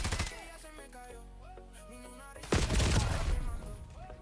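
Rapid gunfire and a burst of loud shots in a Call of Duty match, sharp cracks over game sounds, with a heavier, louder volley toward the end.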